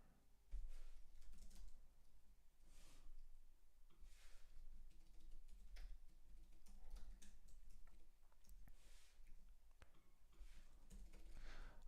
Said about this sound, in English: It's for the typing.